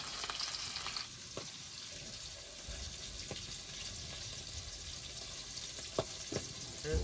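Catla fish frying in a wok gives a soft, steady sizzle at low volume, with a few faint clicks and knocks from the kitchen breaking through now and then.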